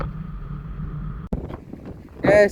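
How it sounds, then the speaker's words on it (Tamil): Steady sea wind at the Pamban railway bridge rumbles and buffets the microphone, then a brief gap and a few louder gusty bursts near the end. "காற்று."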